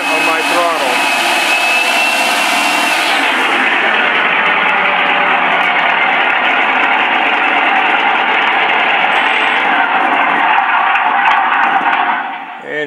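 Steady high-pitched whine of a sound mod on a Starmax A-1 Skyraider model plane held at 55% throttle, a loud continuous buzzing drone that keeps going for the whole clip before it tapers off briefly at the end.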